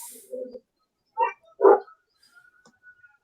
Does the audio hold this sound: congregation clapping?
no